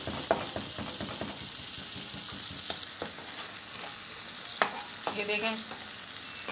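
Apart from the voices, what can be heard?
dal with chicken cube frying and being stirred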